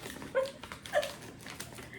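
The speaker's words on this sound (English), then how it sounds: "That's my dog, Izzy, making a big entrance this morning." A dog lets out two short, high whimpers close by, then a few softer whines over quiet room noise.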